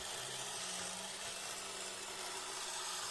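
A toy model engine construction kit runs steadily, giving a continuous close mechanical whir and buzz with a faint low hum beneath, no voices.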